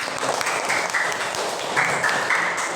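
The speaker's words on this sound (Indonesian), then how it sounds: "kita beri aplaus untuk kelompok 1." A classroom of students applauds group 1 together, a steady dense patter of clapping that holds loud and even for about three seconds with no voices over it.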